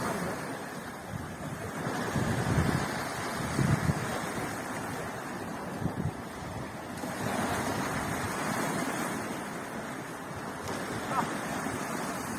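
Sea waves surge and break on the shore at a fishing spot, a steady rushing wash that swells in two long pulses, mixed with gusty wind buffeting the microphone.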